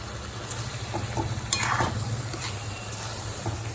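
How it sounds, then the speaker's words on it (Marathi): Ridge gourd curry stirred in a pan, with soft scraping strokes and faint sizzling repeating at a steady pace, close and moderately loud with no voices. "आता इथे मिक्स करून घ्यायचं आहे"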